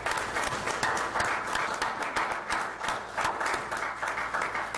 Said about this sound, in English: Please help me congratulate James through a round of applause.